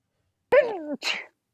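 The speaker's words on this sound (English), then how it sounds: "it sounded like a puppy sneeze." A single sharp human sneeze, short and close, with a squeaky high-pitched quality like a puppy's sneeze, set against silence.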